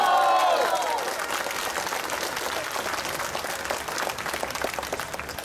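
A crowd at a political rally in Ipoh claps steadily and densely for several seconds, the applause staying loud and continuous after a brief burst of voices at the start.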